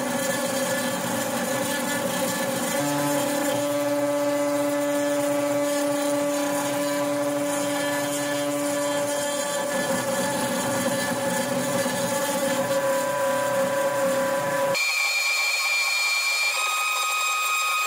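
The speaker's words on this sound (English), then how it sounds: "wanted to try engraving a simple text into aluminum to see if this machine could handle it." A Two Trees TTC450 hobby CNC router engraving text into aluminum: a steady, loud whine of the spindle with tonal hum, continuous throughout, shifting pitch slightly near the end.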